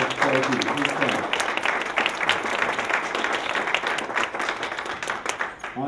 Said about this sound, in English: let's give a warm round of applause for our county executive